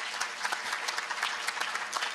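An audience at a European youth summit breaks into applause for the Commission and Parliament, a dense crackle of many hands clapping continuously at close range, with no speech over it.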